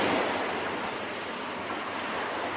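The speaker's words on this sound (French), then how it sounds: "les vagues arrivent de ce côté-là, de l'atoll" Ocean surf breaking at a Polynesian atoll: a steady, loud, broadband roar of waves, continuous and close, with no voices.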